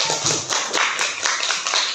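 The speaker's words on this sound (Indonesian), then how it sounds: "Beri tepuk tangan untuk kelompoknya." A classroom group applauds during an Indonesian language lesson, with dense, steady clapping from many hands close by and sustained for the full two seconds.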